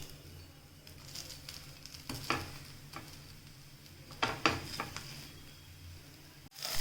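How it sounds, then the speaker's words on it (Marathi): Thin rice flour akki roti roasts on a pan, giving a faint, steady sizzle with a few soft scraping clicks around the middle and a sharper knock near the end, with no talking. "दोन्ही बाजूने आपण याला भाजून घेणार आहोत"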